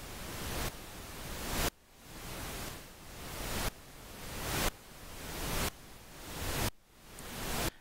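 Pink noise from the AU GEN X synthesizer app on an iPad pulses in repeated one-second swells, each building in loudness and cutting off abruptly, a dense full-range hiss with no other sounds.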